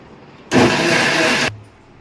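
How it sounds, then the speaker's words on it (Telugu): A mixer grinder grinding peanuts with water whirs loudly for about a second, a harsh steady grinding roar that starts and stops abruptly. "మళ్ళీ ఒక్కసారి గ్రైండ్ చేద్దాం"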